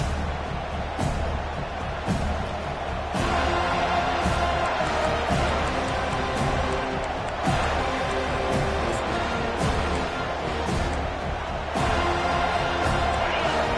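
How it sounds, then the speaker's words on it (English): Stadium crowd cheering in the College Football 25 video game, at a Seminoles game: a broad, continuous roar that swells in several surges. Commentators talk over it. "They challenge this crowd to bring the energy, and I'd say they're doing that."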